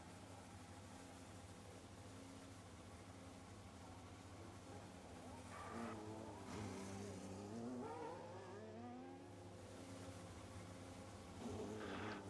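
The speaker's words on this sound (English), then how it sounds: "Another car actually coming out of the pits." A race car in a racing video game drones steadily, then revs with rising and falling engine pitch and brief tire squeals, moderately loud and mostly alone.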